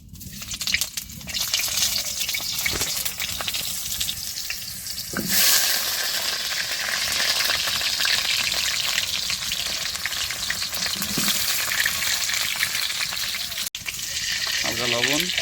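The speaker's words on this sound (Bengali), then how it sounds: "আলু ভাজা হবে, ওর জন্য খানিকটা সরিষার তেল দেওয়া হলো" Potatoes fry in hot mustard oil in a wok, a loud steady sizzle with occasional stirring scrapes and a brief surge of crackle partway through.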